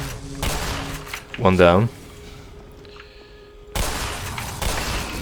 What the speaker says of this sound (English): It's only a shotgun after all.